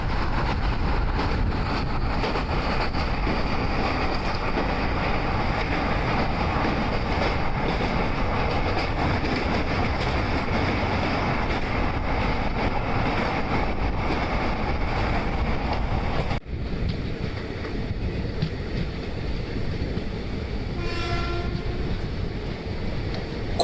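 The Nilgiri Express superfast train from Chennai to Mettupalayam runs along steadily with a continuous rumbling rail roar and clatter heard from on board, then the noise drops and a horn sounds briefly.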